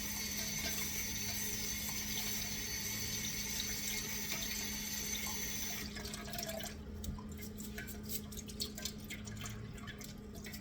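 Water runs steadily from a kitchen tap as something is rinsed for stock, a faint hiss that cuts off partway, leaving quiet drips and light handling sounds.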